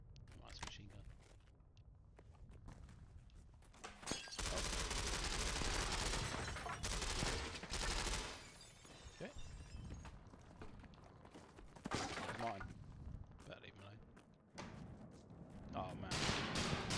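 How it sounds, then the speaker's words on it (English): Machine gun fire in the video game Eternal Castle Remastered: loud bursts of rapid shots arrive in several clusters, mixed with other game noises, with someone talking excitedly over much of it. "Oh, that's a machine gun."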